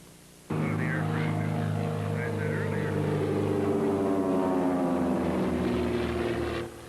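A steady, loud engine drone of a propeller aircraft passing overhead at a flying demonstration in Urbana, Illinois, starting abruptly and holding for several seconds with a rough propeller hum.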